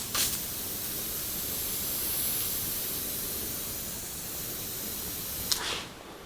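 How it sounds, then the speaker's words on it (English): A spray gun hisses steadily and evenly for about five seconds while laying clear coat onto the body tub of a 1982 Jeep CJ7, with a short burst at the start and again near the end. "this is the first of 5 coats of clear"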